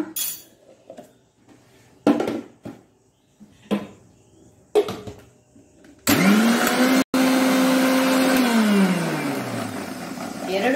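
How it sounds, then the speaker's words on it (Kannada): Mango and jaggery go into a mixer grinder for lassi. A few clinks and short bumps come first, then the motor starts and runs with a loud steady whirring roar, briefly cuts out, restarts, and winds down. "ಇನ್ನೀಗ ಇದನ್ನು ಗ್ರೈಂಡ್ ಮಾಡ್ಕೊಳ್ಳೋಣ"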